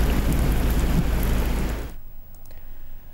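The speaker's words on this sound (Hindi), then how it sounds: "थरपारकर में कभी हल्की तो कभी तेज बारिश का सिलसिला जारी है" Heavy rain pours down during a cyclone storm in Tharparkar, a dense steady roar that cuts off abruptly partway through, leaving a quiet stretch with a few faint ticks.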